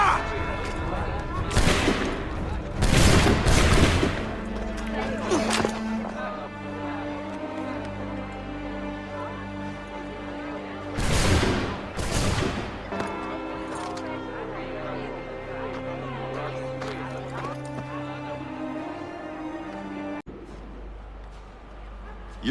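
A volley of gunfire in a video game following a shouted order to fire: loud shots burst out around 2 to 3 seconds, with another blast near 11 seconds over music and game sound.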